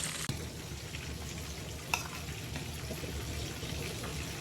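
Food fries in an air fryer in a home kitchen, a faint, steady frying hiss in the background with one sharp click and a small knock.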